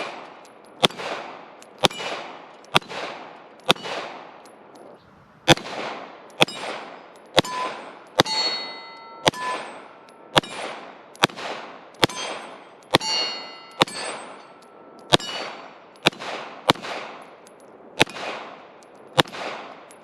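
A Beretta 92X RDO Compact pistol has its slide and trigger worked over and over, producing sharp metallic clacks and clicks that ring briefly, close and fairly loud, at an irregular steady pace with no talking.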